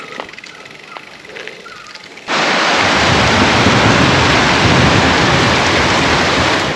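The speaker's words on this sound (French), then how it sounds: "En plus on entend un orage là." Heavy rain from a thunderstorm over Sri Lanka begins abruptly and then continues as a loud, steady broadband roar. It starts after a quieter stretch of faint background noise.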